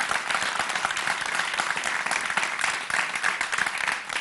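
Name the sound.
audience applause for the young singer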